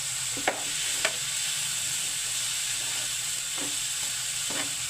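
Bitter gourd with egg frying in a pan, a steady hissing sizzle close by, with a few light clicks of a utensil against the pan.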